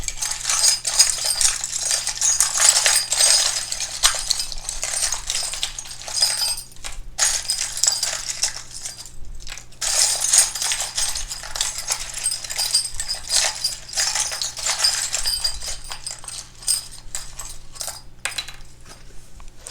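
Rune pieces are shuffled by hand, a continuous close clatter of small hard pieces knocking and clicking together, with brief pauses before the jangling rattle resumes.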